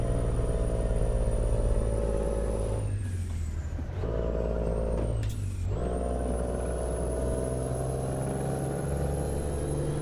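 A heavy truck engine in American Truck Simulator labours up a hill in a loud, steady drone with two brief drops in the rumble, like gear shifts, before it resumes.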